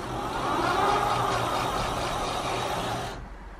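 Rear wheel of a customised mate X 20x4 fat tyre electric bike spinning under throttle, a steady close whirring hum that holds for about three seconds, then cuts off and fades.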